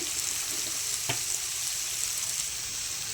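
Onion sautés in oil with rock salt for a chicken liver dish, giving a steady, even hiss of frying with one brief knock partway through.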